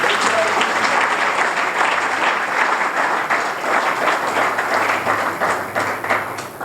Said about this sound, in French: Acclamez encore le Seigneur.